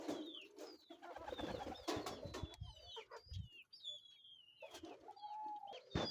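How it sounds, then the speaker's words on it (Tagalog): Pigeons coo and call in a pen of racing birds, with soft rolling coos, scattered sharper bird calls and some clucking, moderately close with shuffling noises between and no talking. "At dito naman mga kalapatids yung nakasalang natin."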